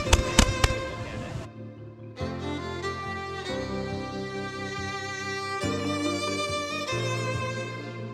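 Non-banging fireworks at a Fourth of July pool party: a few sharp crackling pops, then long sustained whistling tones that shift in bursts, continuing steadily with no voices.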